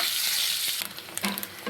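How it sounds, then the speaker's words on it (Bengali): Boiled eggs fry in hot oil in a wok, a loud, steady hiss at first, then crackling pops and light scraping as they are moved, close and without speech. "ডিমটাকে আমি লাল লাল করে ভেজে নেব।"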